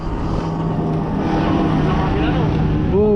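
A steady, loud drone of a large motorboat engine runs throughout, with people talking over it.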